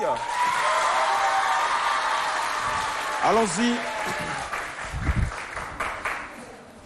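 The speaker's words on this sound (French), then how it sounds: "On les applaudit." A crowd at a school quiz contest applauds loudly with some cheering, and the clapping fades as voices and a whistle-like tone take over partway through.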